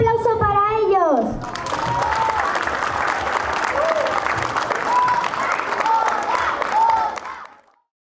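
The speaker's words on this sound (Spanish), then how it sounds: "¡Un aplauso para ellos!" Audience applause at a school living chess performance, a sustained wave of clapping from a crowd with some children's voices and squeals, following a brief spoken announcement, then fading out at the end.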